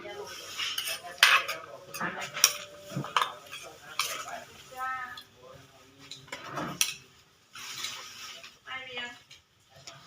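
A metal spoon clinks and scrapes against a dish in a series of short, close taps and scoops while food is served, with some talk in the background.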